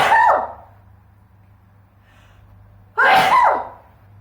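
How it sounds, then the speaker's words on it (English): Two loud, close sneezes about three seconds apart, each a sharp burst trailing off, with near silence between them. "I don't like holding sneezes in"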